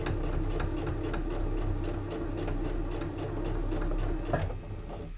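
A home sewing machine runs a steady, continuous stitching hum while stitching a notebook pen holder, holding a constant close motor drone for several seconds before cutting off abruptly near the end.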